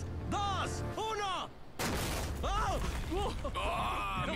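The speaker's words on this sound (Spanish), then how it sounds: "Nuestro primer disparo literal golpeó la piscina enfrente del Lambo." Gunfire aimed at a Lamborghini parked by a pool: a sharp blast cuts in after a short gap, amid excited shouting voices before and after.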